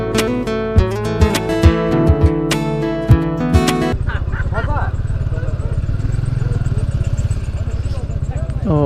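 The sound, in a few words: motorcycle riding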